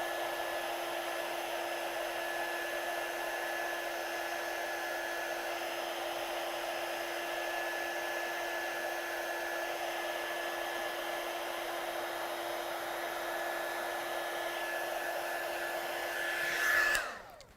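Heat tool blowing hot air to set embossing powder over a large area of a Christmas card with vellum, a steady continuous roaring whoosh for about seventeen seconds, then cutting off abruptly.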